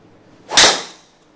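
A PING G425 MAX 9° golf driver strikes a ball indoors, giving one loud, sharp crack that decays quickly, alone with no talk.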